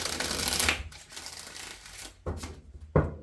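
Tarot cards being shuffled by hand in a quiet room: a long riffling burst at the start, then two short crisp shuffles later, with no talking.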